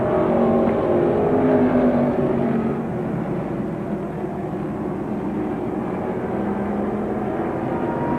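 Late model super stock race cars roaring around a track in a tight pack, a loud, sustained engine drone that dips slightly partway through, with no talk.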